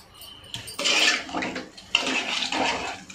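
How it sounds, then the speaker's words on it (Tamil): Rice-washing water poured into a pot of simmering masala kulambu curry, a splashing, gurgling pour in two bursts close by, with no talking. "இந்த டைமில் நம்ம இப்போ தண்ணி சேர்த்துக்கலாம்"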